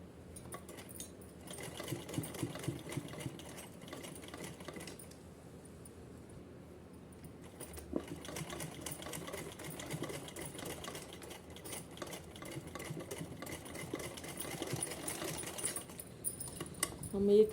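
A sewing machine stitches a small dress for a Kanha ji doll, running in a fast, steady whirring chatter for several seconds, pausing briefly, then running again in a longer, even stretch; it is close but fairly soft.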